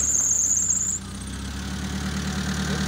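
The engine of a Mitsubishi Colt T120 SS with a rough-running fault starts up after a brief high squeal, then settles into a steady, fairly quiet idle.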